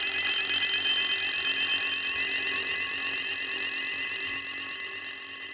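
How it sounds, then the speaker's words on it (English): An electronic bird scarer built from fire alarms to keep pigeons off oilseed rape crops sounds a continuous shrill, warbling electronic alarm, loud and steady with no talk. "designed a bird scarer that uses fire alarms and a flashing light to keep pigeons off"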